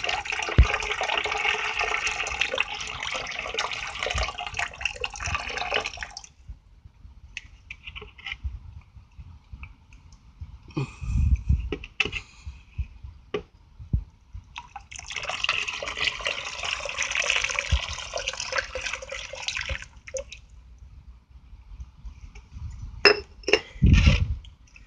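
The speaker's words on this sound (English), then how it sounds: "Now I'm going to combine them." Hot borax solution poured into cold water mixed with hydrochloric acid, heard as two long, steady splashing pours separated by a quieter gap with small clinks and knocks of the containers, close and loud.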